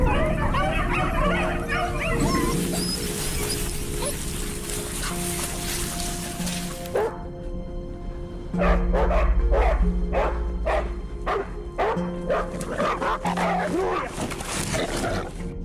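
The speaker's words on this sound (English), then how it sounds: "Hunters then tune into the dog's barking, using it as a precise signal" Pack of hunting dogs pursuing wild boar, barking, yipping and whimpering loudly and close, first in a dense overlapping chorus and then in sharp repeated barks, with some human voices mixed in.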